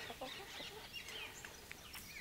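Free-range homestead chickens cluck softly in their coop, a scatter of brief, faint calls over steady background noise with no talk.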